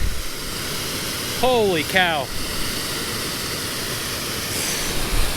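Loud, steady roar of rushing water from a nearby waterfall, with a brief exclaimed voice rising over it.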